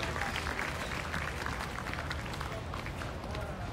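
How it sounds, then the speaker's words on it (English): A crowd at an outdoor rally at Iolani Palace applauds a speaker, steady sustained clapping mixed with cheering crowd noise throughout. "Big round of applause"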